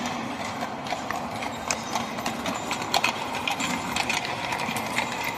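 Horse hooves clip-clop on a Vienna city street, a quick uneven patter of clops under loud, busy street noise.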